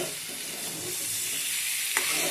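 Chicken pieces fry and sizzle in a hot pan with green chillies, a constant close, loud hiss with faint scraping stirs and a small clink near the end.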